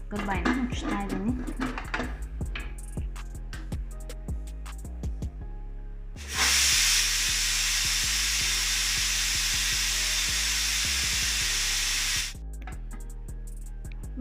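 A pressure cooker with peas pulao vents steam in a loud, steady hiss that runs about six seconds, preceded by clattering pot and utensil sounds and tonal background music.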